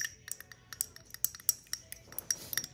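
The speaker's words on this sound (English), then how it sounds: "Just give it a stir." A small spatula stirs egg solution in a dish for icon painting, tapping and scraping with light, quick metallic clinks at close range, no voice.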